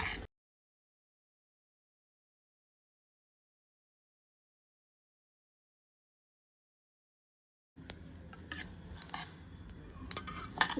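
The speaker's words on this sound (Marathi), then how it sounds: "इथे आता कढईमध्ये मी तीळ भाजून घेणार आहे" Sesame seeds roasting in a kadhai: after a long stretch of silence, a spoon begins scraping and rattling the seeds against the metal in quick, close strokes, with no speech.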